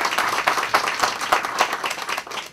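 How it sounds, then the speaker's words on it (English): A crowd applauding, steady dense clapping throughout with no talking. "she really deserves a round of applause."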